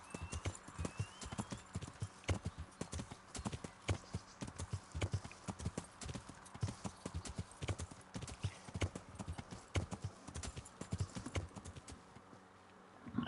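Steady clip-clop of horse hooves trotting at an even rhythm throughout in the video game Kingdom Come: Deliverance, close and clear, with faint background ambience.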